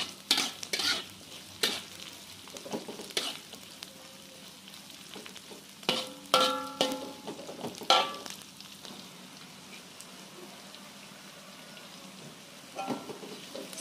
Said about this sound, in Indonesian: Kita tumis setengah matang.